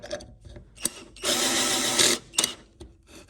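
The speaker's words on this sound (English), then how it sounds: "how easily it can drive screws through a board or not" A Harbor Freight Warrior 12V lithium drill driving a screw into a board on the number 4 setting, a loud steady motor whir lasting about a second, framed by clicks and handling knocks.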